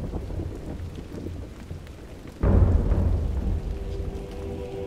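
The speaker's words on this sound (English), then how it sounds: "What can we do to make your god calm the storm for us?" A storm at sea in an animated Lego brickfilm of the Bible story of Jonah: steady rain hiss, then a heavy, close rumble of thunder that swells midway and slowly fades.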